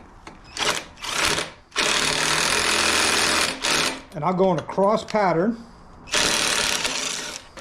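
A power tool whirs in several bursts, loud and close, tightening handlebar bolts on a 2023 Harley-Davidson Street Glide, with someone talking between and over the runs.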